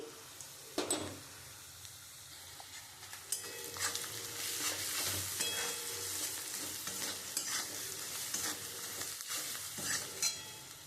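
Ground coriander and chili powder masala fries in oil for a fish-head muri ghonto, a continuous close sizzle and bubbling with steady stirring and spatula scrapes, no talk.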